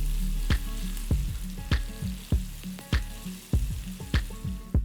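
Cumin, chopped green chilli and kasuri methi tempering in hot oil for a potato and yogurt side dish, a loud close sizzle punctuated by regular sharp clinks about every half second.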